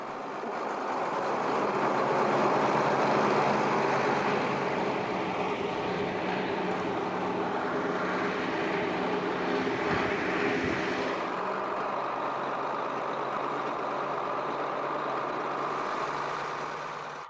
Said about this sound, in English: allows the nearly 12-ton articulated tractor to reach top speeds of over 30 kilometers per hour